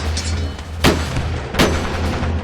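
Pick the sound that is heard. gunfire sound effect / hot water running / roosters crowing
gunfire sound effect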